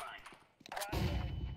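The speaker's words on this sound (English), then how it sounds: "Throwing flash bang." A flashbang grenade detonates in the game Counter-Strike 2, a sudden loud burst that follows quieter game noise and then holds as a dense, sustained roar.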